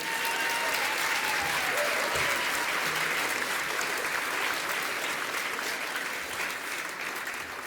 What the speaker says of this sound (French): Un mes d'applaudissements parce que ça vaut la peine.